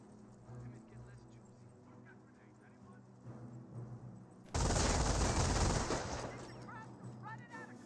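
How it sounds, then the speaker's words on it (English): Burst of MG42 machine gun volleys in Company of Heroes, a dense loud roar of gunfire erupting midway and lasting about a second and a half before fading, with commentary talk and background battle noise around it. "MG42 getting great volleys on the infantry that's advancing up the road"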